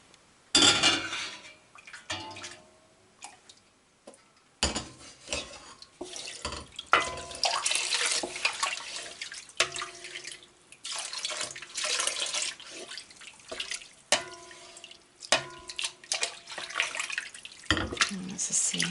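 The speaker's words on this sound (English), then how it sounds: "let's add the next lot of hot water" Hot water poured into a pot while making sheep's milk gouda, a splashing, trickling pour with clinks of kitchenware, close and fairly loud, in irregular bursts.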